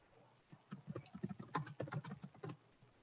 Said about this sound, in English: I'm gonna type to you.